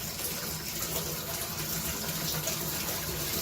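Hot water runs steadily from a tap into a sink. The stream makes a continuous, even hissing gush at close range, with no voices.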